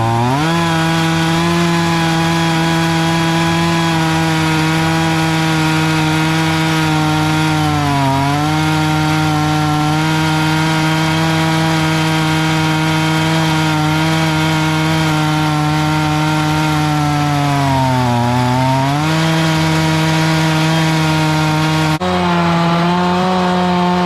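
A chainsaw milling sappy pine logs into boards runs loud and steady at high revs, its tone dipping briefly as the bar bites into the wood a few times before recovering, with no talking.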